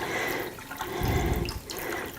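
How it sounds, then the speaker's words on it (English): Water poured from a container into a pot over beef bones for making broth, a steady splashing pour that swells in the middle and then eases, close by with no talk. "I'm going to put just enough water to cover"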